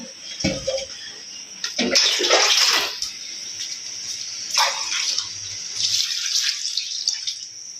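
Water pours into a cooking pot in an outdoor kitchen where rice is boiling, a splashing, gushing flow in several bursts with short pauses, fairly close and moderately loud, no talking.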